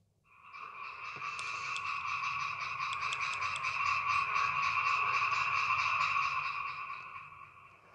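Frogs croak in a steady, dense chorus, a continuous pulsing rattle that swells in after a moment and holds loud and close for several seconds before easing slightly.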